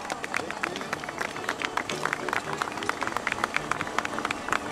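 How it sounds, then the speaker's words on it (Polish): An audience at a ski event gives lively applause for a prize winner, with dense, steady clapping and crowd murmur, and talk over it. "wielkie brawa!"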